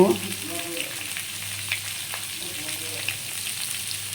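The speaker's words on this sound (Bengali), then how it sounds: "ভালো করে একটু ভেজে নেব।" Pieces of papaya and potato fry in a pan with a constant close sizzle, punctuated by a few scrapes of stirring and faint background sounds.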